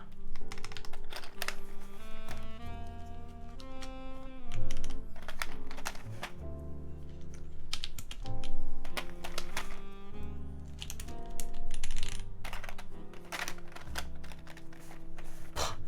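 Fast, steady typing on a mechanical keyboard fitted with GMK keycaps produces dense, close-up clacks in bursts with brief pauses, and faint background music underneath.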